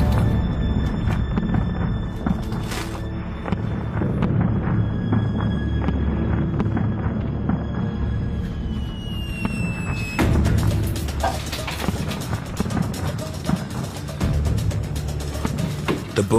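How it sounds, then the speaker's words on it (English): Fireworks boom over a town in a dense, continuous barrage, loud and rumbling, with sharper cracks and thuds mixed in that could be sledgehammer blows, forming one steady wall of noise. "As soon as the fireworks started in the town"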